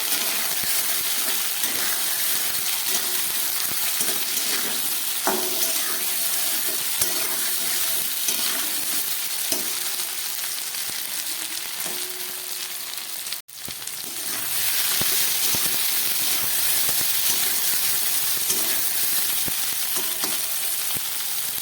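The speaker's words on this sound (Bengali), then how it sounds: "ঝিঙে আলুটাকে খুব ভালো করে ভেজে নিলাম" Ridge gourd and potato pieces fry in hot oil for a rohu fish curry, a steady, loud sizzle with occasional stirring scrapes, broken by a brief dropout midway before the frying resumes at full strength.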